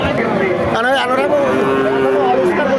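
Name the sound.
dairy cow mooing at cattle market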